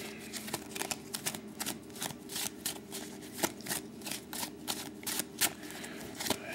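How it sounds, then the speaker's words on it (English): A deck of trading cards is riffle-shuffled up close, giving repeated crisp fluttering bursts in a quick, uneven rhythm with no voices. "So let's do the shuffling"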